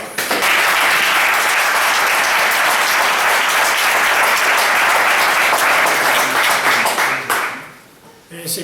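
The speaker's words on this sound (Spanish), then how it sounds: "Pues un aplauso para los dos." A room of listeners at a book project presentation breaks into loud, sustained clapping that stays full and even for about seven seconds, then quickly dies away to near quiet.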